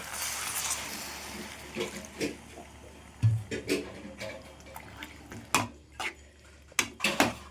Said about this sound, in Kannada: ಇವಾಗ ಒಂದು ಸ್ವಲ್ಪ ನೀರು ಹಾಕೋಣ